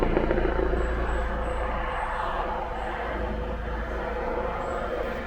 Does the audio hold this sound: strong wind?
no